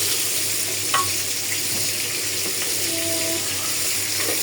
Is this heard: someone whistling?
no